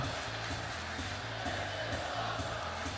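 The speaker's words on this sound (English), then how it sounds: "Listen to the crowd." In the WWE 2K25 wrestling video game, a faint arena crowd roars continuously with a rhythmic chanting pulse beneath the broad cheering noise.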